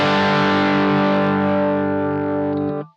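An electric guitar played through the classic channel of a Bluguitar Amp1 Mercury Edition amp rings out as one sustained, full, lightly driven chord that holds steady for nearly three seconds, then is cut off abruptly, with no voices.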